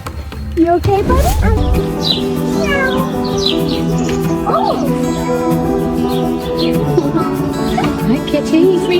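A cat meows near water, with several rising, wavering calls scattered among close, loud human speech and other animal sounds, after a sudden loud thump at the start.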